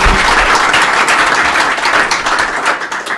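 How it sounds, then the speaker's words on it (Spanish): Loud, dense applause from a lecture audience after a keynote talk, steady throughout and tapering slightly at the end. "les pido un aplauso"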